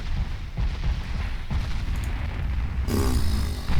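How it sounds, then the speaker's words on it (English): Heavy battleship gun salvos in the naval video game Ultimate Admiral Dreadnoughts, heard as a dense, rumbling series of booms with a sharper burst near the end. "That is a pretty nasty salvo."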